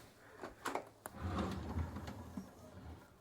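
Deep drawers in the cabin of a Garcia 65 sailing yacht slide open and shut, giving faint wooden knocks and scraping rumbles with a few sharp clicks, close by and quiet.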